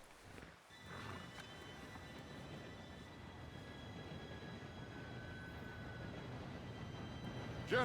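A steam-era train rolls in within the video game Red Dead Redemption 2, a continuous low rumble and rattle that builds steadily after a brief quiet opening, with faint hoof-like clatter in the mix.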